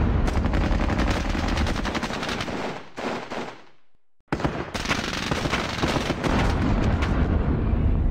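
Sustained bursts of gunfire from the Squad Battles Eagles Strike war game, dense and loud throughout, broken by a brief near-silent gap around the middle before the heavy firing resumes.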